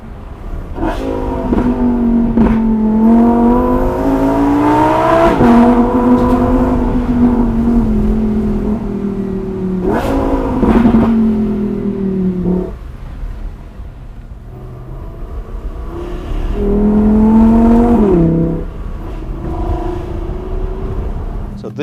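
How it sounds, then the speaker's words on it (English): Engine of a Lamborghini Huracan supercar pulls through repeated accelerations, loud and close, its tone climbing and dropping with gear changes and brief lifts off the throttle. "So this is the last Huracan variant I'm driving today."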